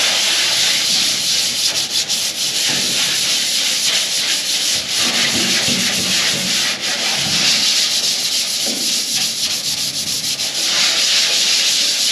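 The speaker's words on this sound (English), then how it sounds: "I'm gonna get some of that surface rust knocked off of here. Then we will take out or grind out a few of these little spot welds" A grinder works steadily over a truck body, knocking off surface rust and grinding out spot welds: a loud, continuous abrasive whine and scrape that runs unbroken throughout, up close.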